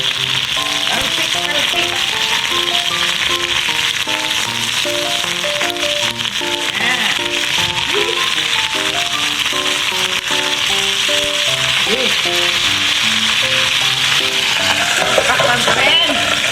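Fish frying in a hot pan, crisping while cooked for a Filipino snail and malunggay dish, a loud continuous sizzle and crackle with stirring rattles, joined by background music and occasional voices.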